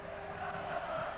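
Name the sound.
rugby league crowd cheering at St Helens v Wigan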